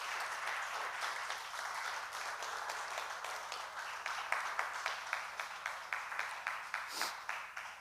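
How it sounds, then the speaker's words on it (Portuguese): A church congregation applauds during an evening service, a steady wash of clapping that turns into more rhythmic, regular claps in the second half, at moderate volume in a reverberant hall. "Dê uma salva de palmas bem forte para Jesus Cristo essa noite"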